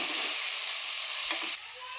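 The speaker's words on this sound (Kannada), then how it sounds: "ಶುಂಠಿ ಬೆಳ್ಳುಳ್ಳಿ ಪೇಸ್ಟ್ ಹಸಿ ವಾಸನೆ ಹೋಗಿದೆ, ಚೆನ್ನಾಗಿ ಫ್ರೈ ಆಗಿದೆ." Ginger garlic paste with turmeric fries in a pan, giving a steady, even sizzling hiss with a brief stirring scrape partway through.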